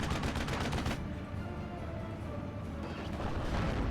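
Heavy gunfire from a Steel Division World War II battle game rumbles in dense, booming bursts at the start and end, with a continuous low roar of distant firing between.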